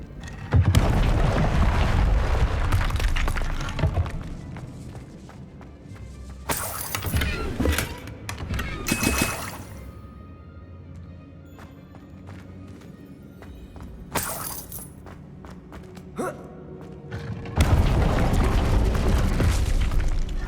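Incendio fire spells cast in Hogwarts Legacy erupt as several loud fiery bursts and booms spread across the stretch. Quieter rumbling gaps with scattered thuds separate them, and a strong blast comes near the end.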